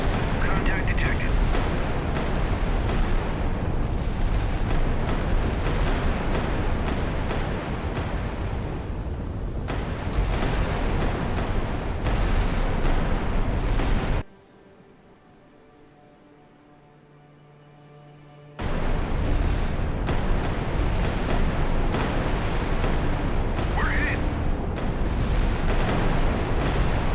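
Naval gunfire and explosions in the naval warfare video game Sea Power, a dense roar of booms and blasts broken by a few seconds of near quiet, with a voice heard over the battle.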